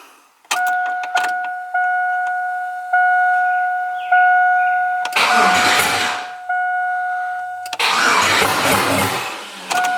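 An LS-swapped Chevrolet S10 Xtreme being started for the first time: a high steady tone, repeated starter cranking attempts, then the V8 catching and roaring loudly twice, close by, with no talking.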